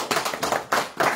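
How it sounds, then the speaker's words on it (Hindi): Short burst of clapping for singer Priya Mani during a Navaratri katha gathering, with several rhythmic waves of hands clapping together across a little over a second, moderately loud and close. "एक जोरदार ताली प्रिया मणि के लिए।"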